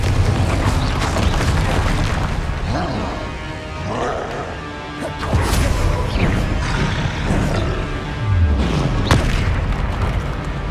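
The Confringo fire spell detonates again and again in Hogwarts Legacy, several heavy booming blasts landing a few seconds apart over a continuous rumbling battle din.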